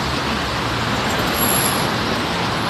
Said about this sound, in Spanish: Perdón el ruido de los carros.